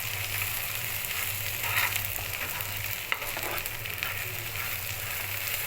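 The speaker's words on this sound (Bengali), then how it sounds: "এই পর্যায়ে দিয়ে দিব মরিচ বাটা। মরিচটাকে ভালো করে মিশিয়ে নেব।" Chili paste frying and being mixed in a pan, giving a steady, close sizzle with faint scraping from stirring throughout, no voices.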